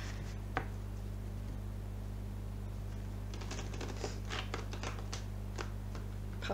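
Soft, scattered riffles and flicks of tarot cards being shuffled come in uneven bursts over a steady low hum, with small clicks and no talking.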